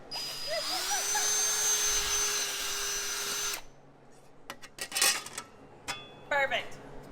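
A power drill whines steadily at high speed for about three and a half seconds while being tested against a Nitto tire, then stops, followed by scattered knocks and handling clatter.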